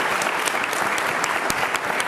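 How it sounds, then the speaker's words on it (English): Dense, loud applause from an audience for a panel at a prison reform event, continuous close clapping with a few sharp individual claps standing out. "give this panel a round of applause"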